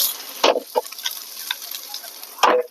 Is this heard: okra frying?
yes